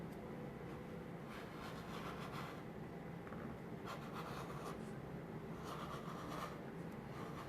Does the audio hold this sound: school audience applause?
no